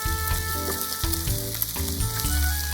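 Pork, onions, potatoes and carrots sizzle steadily in a pot, a continuous close frying hiss with occasional soft stirring scrapes, no voices.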